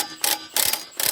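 Ratchet wrench turning on a car's brake and axle assembly, three quick bursts of crisp metallic clicking, close and clear with no talk.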